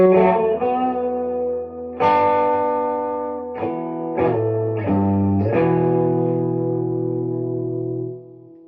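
Clean electric guitar from a Tom DeLonge Strat played through a Fender Deluxe Reverb amp, with several ringing chords struck one after another, each left to sustain and slowly decay.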